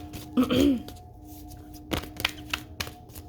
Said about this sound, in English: But sometimes you gotta shuffle for a minute.